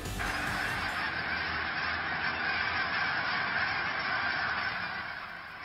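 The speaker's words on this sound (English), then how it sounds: "Our viewer Heather saw hundreds of geese up in Timnath" A flock of hundreds of geese in Timnath, Colorado honks continuously in a dense, overlapping chorus, steady and loud throughout, fading slightly at the end.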